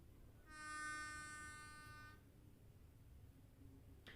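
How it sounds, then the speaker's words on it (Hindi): A train pulls into a station platform and sounds one long, steady horn blast of about two seconds. The horn rises over a constant low rumble that carries on after it stops. "जब समय की घड़ी प्लेटफॉर्म पर एक ट्रेन की एंट्री होती है"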